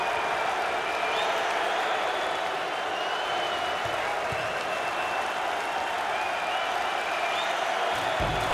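Sustained applause and cheering from a college basketball crowd at an NCAA game, Princeton at Duquesne, a steady dense wash of clapping filling the whole stretch with no pause.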